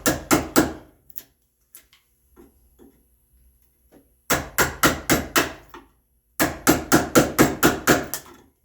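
Mallet blows drive a hand chisel through waste wood on a red oak tenon, loud close strikes in quick runs of five or more, broken by a quieter stretch of lighter, scattered taps.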